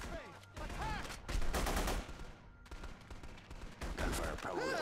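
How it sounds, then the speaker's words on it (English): Bursts of rapid gunfire in The Punisher video game crackle in quick volleys with brief gaps between them, loud and close, with whooshing effects mixed in. "Gunfire probably alerted the whole island by now."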